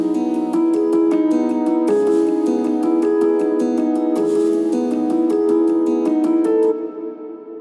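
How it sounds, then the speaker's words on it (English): Piano stem from the track, steady rhythmic chords with crisp repeated attacks throughout, then a ringing decay in the final second. "the first thing I want to show you is the piano from the original stems"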